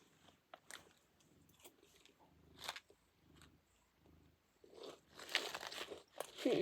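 Someone bites into buffalo wing sauce flavored crickets, sharp close crunches followed by steady chewing that grows louder and denser toward the end.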